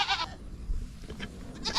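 Goats on a farm bleat in two short bursts, one at the start and one at the end, close and moderately loud, with quieter low rumbling between.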